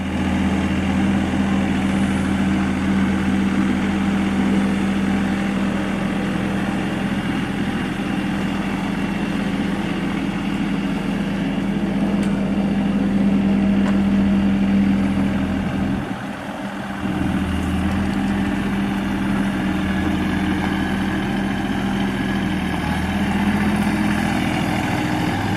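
A vehicle engine runs steadily while driving out to a solar tracker pole, a continuous low rumble with a brief dip partway through, with no talking.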